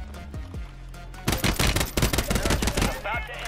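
Shotgun fire in a Warzone battle: a rapid cluster of loud, close blasts in quick succession after a quieter stretch of in-game ambience, with faint voices underneath.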